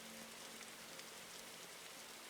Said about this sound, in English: However, the rain is the problem.